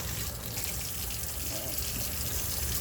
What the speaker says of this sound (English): I just put water in them, kind of rub them together, and then it gets all that out.